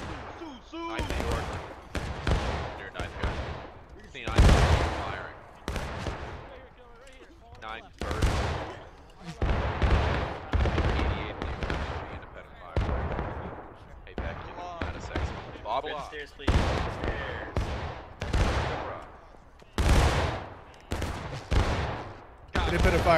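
Musket fire in the Civil War game War of Rights, with many loud, sharp shots cracking out irregularly from different distances, some close and booming, others more distant, as a volley breaks into independent firing.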